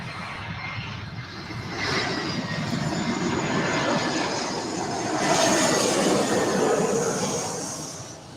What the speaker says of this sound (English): There's an A321.